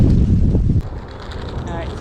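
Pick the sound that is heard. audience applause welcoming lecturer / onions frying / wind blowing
wind blowing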